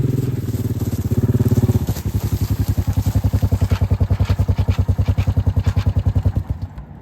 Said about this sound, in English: It's too cold to be riding on a four-wheeler right now.